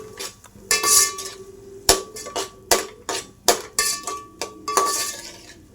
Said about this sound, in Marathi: आणि त्याला नीट व्यवस्थित परतून घेऊया